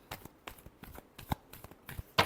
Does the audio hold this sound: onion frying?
no